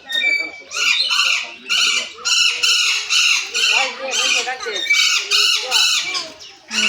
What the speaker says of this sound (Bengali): এই যে টিয়া পাখি সব এখানে।